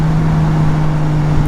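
Triumph Trident 660 motorcycle engine running at a steady pitch, a continuous loud drone with a strong held tone and no breaks.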